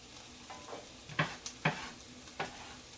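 Faint sizzling in a pan with a few soft stirring scrapes and light clinks scattered through.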